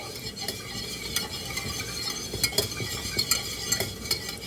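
Fresh beans and pork being stirred with white vinegar in a hot pan, a spoon scraping and clinking steadily against the metal over a soft, continuous sizzle, close and alone.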